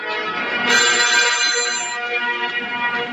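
Phone ringtone on loudspeaker, a bright repeating electronic melody heard close and clear, with no talking over it.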